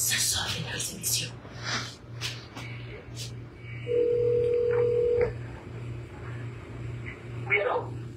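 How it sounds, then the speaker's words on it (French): Telephone tones from a call placed over a speakerphone in a radio studio, with a low steady pulsing tone throughout and a brief higher tone midway, under background voices. "Je compose le numéro de téléphone."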